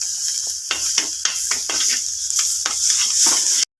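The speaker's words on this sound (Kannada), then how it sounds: "ಈಗ ಚಿಲ್ಲಿ ಪೌಡರನ್ನು ನಾನು ಸೇರಿಸ್ತಿದ್ದೇನೆ. ಒಂದು ಸ್ಪೂನ್." Chilli powder and spices frying in a pan with browned onions, a steady bright sizzle with a spoon stirring and scraping in uneven taps, close and fairly loud.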